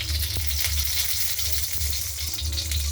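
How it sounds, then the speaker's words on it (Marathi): Grated carrot sautéing in ghee in a kadhai gives a steady, close sizzle throughout, with a few faint stirring knocks and no talk. "आणि हे गाजराचं पीठ त्याच्यामध्ये छान परतून घेते"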